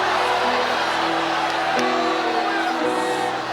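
A church congregation shouts and whoops together, a loud, continuous mass of crowd voices filling the space for several seconds with tonal cries rising above it.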